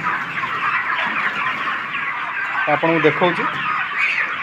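A dense flock of chickens on a rooftop poultry farm keeps up a continuous busy clucking and chattering, with a voice speaking briefly partway through.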